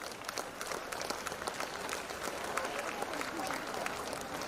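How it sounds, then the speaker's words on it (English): Applause fills the hall at a waste management award ceremony, a dense, even spread of many hands clapping at moderate distance with voices faintly underneath. "A good applause again."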